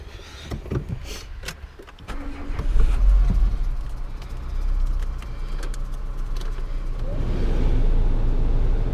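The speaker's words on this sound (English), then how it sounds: "Here, we'll get the car warmed up." A car engine idles and warms up on a snowy morning after the windows were de-iced, a steady low rumble that swells near the start and holds at a constant level, with no talking.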